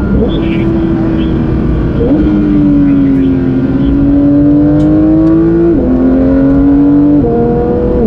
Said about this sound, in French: on a toujours un flat 6 qui monte à 9000 tours minute, malgré les normes, c'est toujours un Atmo